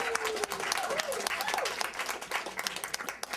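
A congregation applauds a reverend on his birthday, full crowd clapping with sharp individual claps standing out, steady and fairly distant, with a few voices and cheers underneath.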